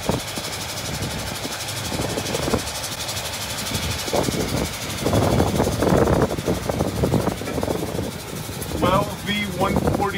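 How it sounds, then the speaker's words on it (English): A V149 Detroit diesel engine in a 1970 Mack M100SX truck runs with a low, rough rumble that swells and fades, while people talk over it. "V149 Detroit diesel."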